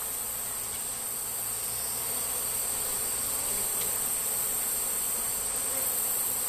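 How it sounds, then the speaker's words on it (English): Honeybees buzz steadily while hive frames are lifted and shaken outdoors, with a continuous droning hum of many bees close by. "going to try and shake most of the bees off so that we can take it home without taking 100 bees with us"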